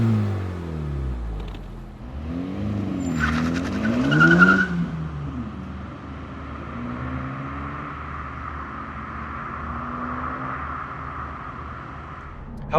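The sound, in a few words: 2024 Honda Civic Type R exhaust and engine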